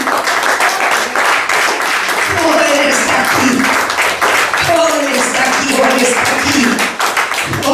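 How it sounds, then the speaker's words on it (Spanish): A church congregation applauds loudly during a worship service, with dense, continuous clapping and a voice speaking over it throughout. "Dale un fuerte aplauso al Señor."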